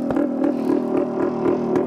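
A vehicle engine idles smoothly in a steady low hum with faint rhythmic pulsing, close and constant for the whole stretch, no voices.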